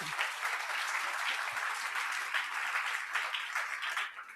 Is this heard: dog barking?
no